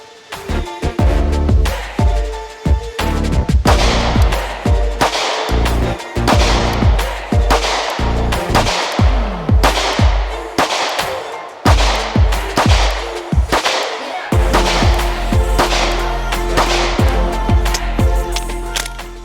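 Springfield Hellcat pistol firing a string of about 13 rounds, sharp loud cracks in an uneven but steady rhythm, each shot ringing out with short echoes, close and without speech.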